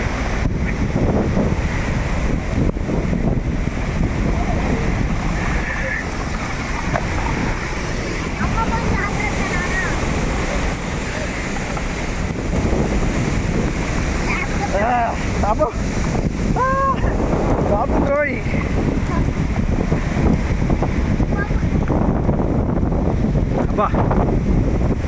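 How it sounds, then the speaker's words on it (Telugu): Water spray falling like rain from the barrage at the Srisailam dam, a loud continuous rush with wind buffeting the microphone and voices talking over it. "వాటర్ బ్యారేజ్ ద్వారా వర్షం లాగా వాటర్ వస్తుంది."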